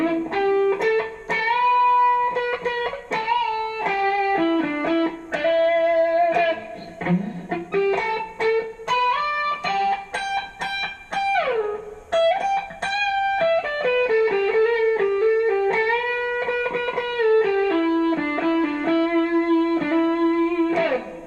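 Clean electric guitar, a Fender Squier Bullet HSS on its third (middle) pickup position, plays a melodic line of single notes and chords, bright and steady, with no voices.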